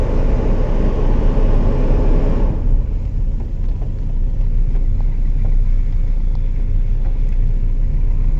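A car being driven with a loud, steady engine and road rumble from inside the cabin, heavy at first and then settling into a lower, even drone with faint rattles.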